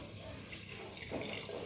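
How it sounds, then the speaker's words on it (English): Water poured into a cooking pot while making beef stir-fry, a short, steady splashing trickle at moderate volume, heard on its own. "I'm going to add a little bit of water"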